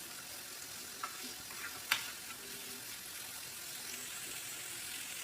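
Soft stirring of vegetables and spice paste frying in oil on a tawa for veg pulao, a low steady sizzle with a few faint clicks of the spoon, quiet throughout.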